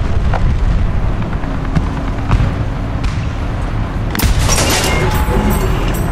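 Jagdpanther G1 tank destroyer cannon fire in War Thunder on the Flanders map, loud booming blasts over continuous rumbling engine noise, with a sharp impact crack near the end.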